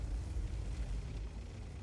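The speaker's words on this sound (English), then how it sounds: "there's the Batchat firing again." A Bat.-Châtillon tank's gun fires in a tank video game, heard as a distant, muffled low boom that rumbles and fades over about two seconds.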